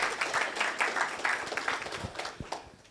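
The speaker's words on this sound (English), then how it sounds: "Through the round of applause," An audience at a COPD event opening applauds, a dense patter of many hands clapping at moderate distance that gradually tapers off over a few seconds.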